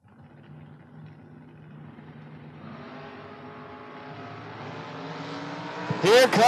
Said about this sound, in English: Here comes the dragster chasing down the door car at the stripe